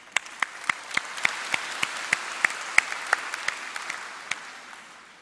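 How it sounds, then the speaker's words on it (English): Audience applause at an RMIT Saigon South campus graduation ceremony sounds as a run of crisp, distinct claps at a steady, evenly spaced rhythm over a soft background wash, fading out after a few seconds. "Another round of applause for Dr."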